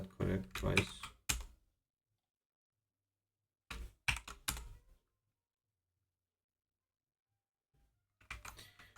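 Bursts of quick clicking keystrokes on a computer keyboard while entering login credentials, close and fairly quiet, in short runs separated by silent pauses.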